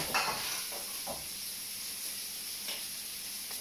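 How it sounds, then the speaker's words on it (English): Bacon frying in butter in a hot pan, a bright continuous sizzle and hiss with a few short scraping stirs near the start, close and steady with no talking. "Keep stirring your bacon until this is nice and crispy"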